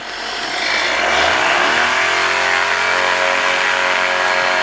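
Light aircraft engine at full power on the takeoff roll, a loud, steady roar that rises in pitch as it spools up and then holds a sustained high drone, close and unbroken.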